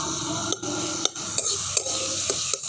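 Boiled eggs being stirred with soy sauce in a hot pan for egg momo, with a low sizzle underneath and several sharp scrapes and clinks of the utensil against the pan at an uneven rhythm, close and fairly loud.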